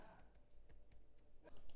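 Someone types a password on a computer keyboard in a run of soft, quick keystrokes, faint and close, with a voice speaking over part of it.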